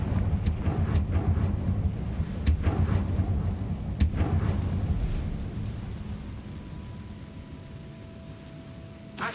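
A Confringo explosion spell in a Harry Potter video game, a long rumbling blast with crackling debris and several sharp snaps, loud at first and slowly fading out.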